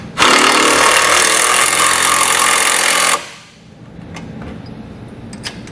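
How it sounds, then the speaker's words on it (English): Powered driver spinning down nuts with a 9/16 socket while a wrench holds them, mounting a Demco tabless base plate on a 2018 Chevrolet; a loud steady buzzing whir for about three seconds, then it stops, leaving faint clicks and handling noise. "let's come back with that 9/16 wrench and socket and snug them all down"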